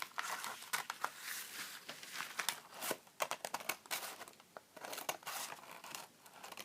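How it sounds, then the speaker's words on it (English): Scissors cut through a paper napkin and tracing paper for a collage, a faint series of crisp snips and crinkles in irregular bursts, heard close with no talk. "So all I have to do is take a pair of scissors and cut along the"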